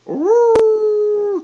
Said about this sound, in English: to hear that infamous wolf howl and that beat